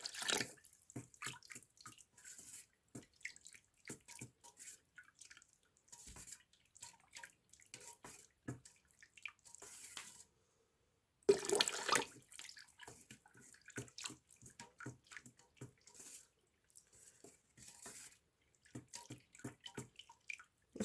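Water poured in small splashes and drips into a homemade ecological exterior paint mixture, intermittent close trickling with a brief pause midway.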